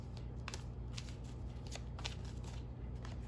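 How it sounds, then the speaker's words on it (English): A deck of angel answer oracle cards being shuffled and a card pulled, with soft papery riffles and flicks repeating over a low steady background hum, close and quiet. "I'm going to pull one of these angel answer oracle cards to go along with the first house."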